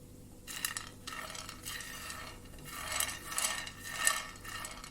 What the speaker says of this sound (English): I will first begin by roasting these white peas